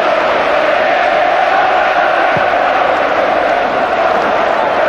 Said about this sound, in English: We shall not be moved, the cry from the home fans